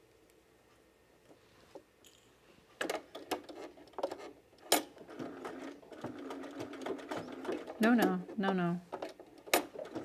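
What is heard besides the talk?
sewing machine restitching a Henley shirt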